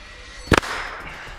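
A signal flare fires outdoors as one sharp double-cracked burst, loud and close, followed by a short hissing trail that fades.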